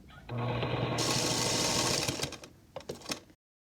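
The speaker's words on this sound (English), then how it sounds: "I can feel that that's nested, so I'm just going to sew." Sewing machine stitching a quilt seam with a steady, fast whirring run that stops, then a few faint clicks and handling knocks, with no talk.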